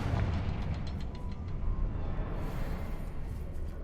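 A Confringo blasting spell explodes in a Harry Potter video game set in a cavern: a continuous deep, rumbling boom that stays loud and steady throughout, with no voices over it.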